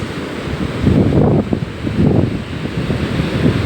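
Rough sea waves surge and break on the beach at Addaripeta, with heavy rolling swells rising and falling under strong wind buffeting the microphone.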